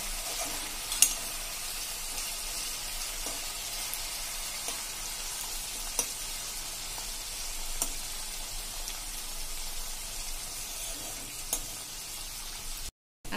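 Punjabi samosa filling sautéing in hot oil in a pan, a steady soft sizzle and crackle with faint stirring clicks throughout, fairly quiet with no talking.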